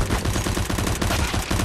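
Rapid, loud gunshots from a Desert Eagle pistol in the Roblox game CB:RO crack in a dense, close burst with no talking.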